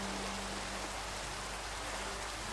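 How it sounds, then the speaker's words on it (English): Steady rain hisses in Minecraft, a constant even wash of falling drops with no pauses, under a low hum. "starts raining."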